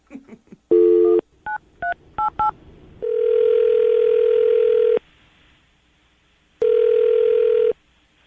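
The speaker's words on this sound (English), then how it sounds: "I'm going to dial the phone number right now" A sequence of telephone keypad tones, one long and several short beeps, followed by two long ringback tones separated by a pause, loud and clear.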